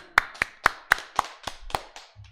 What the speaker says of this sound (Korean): 세상에 여러분 박수 쳐야 될 일입니다